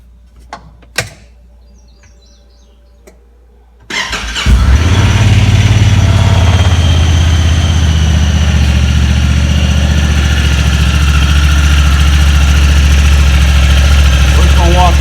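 Honda Talon X/R UTV engine cranking and catching after a quiet spell with a few clicks, then settling into a loud, steady, close idle that runs on without change.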